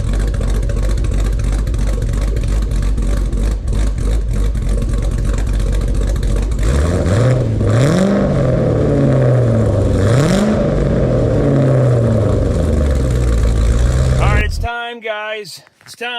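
LS V8-swapped car engine idling with a steady low rumble through a $250 stainless exhaust, then revving in loud rising and falling sweeps before cutting off, a voice briefly audible at the end.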